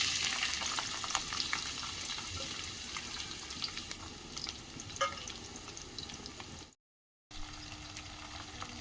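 Onion and green chillies spitting and frying in hot oil with bay leaves, a steady broadband sizzle with occasional stirring scrapes, close and continuous apart from a brief dropout near the end.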